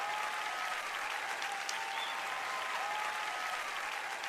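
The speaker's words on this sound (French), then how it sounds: "j'ai eu un petit applaudissement pour l'exercice physique" Audience applause at a French-language Christian sermon: a steady, even wash of clapping from a large crowd, lasting about four seconds with no voice over it.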